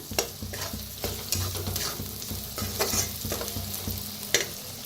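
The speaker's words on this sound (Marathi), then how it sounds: "छान भाजून घेऊया. तेलातच भाजायचं चटणी ही ना." Red chili chutney with red chili powder roasts in oil in a village-style kitchen, a steady sizzle broken by repeated scraping stirs of a spoon, close and without talk.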